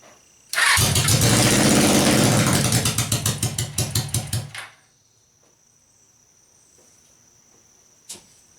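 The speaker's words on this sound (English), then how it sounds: "So it fires up, it revs, and then it slowly dies" A Suzuki engine with the choke on fires up loudly, revs in a rough sputtering burst for about four seconds, then stumbles and dies away into near silence, leaving a faint steady whine and one small click afterward.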